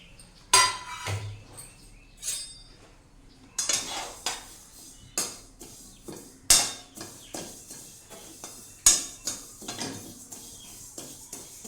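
Sesame seeds dry roasting in a pan, heard as repeated metallic scrapes and clinks of a spoon stirring against the pan, irregular sharp strikes spaced a second or so apart, close and fairly quiet with no talk.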